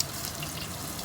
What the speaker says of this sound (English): So at the moment I'm just frying the fish.